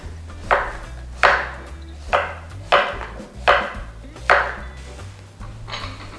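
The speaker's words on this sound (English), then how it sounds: "Cut the zucchini into bite-sized pieces." A knife cuts zucchini into bite-sized pieces on a cutting board, six evenly spaced crisp chops landing about once a second, close and clear with no talking.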